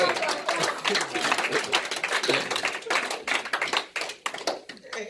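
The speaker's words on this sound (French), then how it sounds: "Donnez une belle acclamation à notre Dieu." A church congregation claps in praise of God, a dense and lively burst of many hands, loud and close, with voices mixed in.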